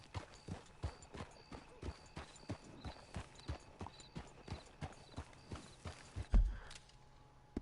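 Horse hooves clip-clop in a steady walking rhythm in the video game Red Dead Redemption 2, crisp evenly spaced hoofbeats continuing for several seconds before a heavier thump near the end.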